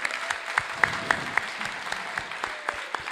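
Audience applause at an Artsakh concert, faint and sparse, with scattered individual claps pattering steadily at a distance.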